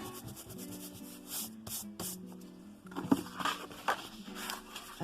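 Hand rubbing and burnishing a folded paper box, giving soft irregular scraping strokes close by, with a few brief louder swipes near the end.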